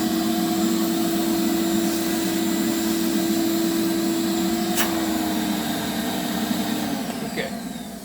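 A light-duty 3-gallon portable carpet cleaner runs while vacuuming a floor mat, a loud, steady motor whine and airflow roar that continues throughout and eases slightly near the end.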